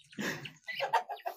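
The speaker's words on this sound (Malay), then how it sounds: "tunjuk ayam" Chickens kept at a village smallholding in Kubang Bemban cluck in a few short, soft bursts at close range, with no one talking.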